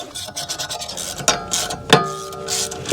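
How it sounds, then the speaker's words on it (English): M8 bolts are turned in to press a seized brake rotor off the hub of a Toyota Highlander, giving rapid ratcheting clicks and grinding metal scrapes, with a few sharp metallic pings close by. "They'll act like a little force screw or press, and they'll push this rotor off of the hub."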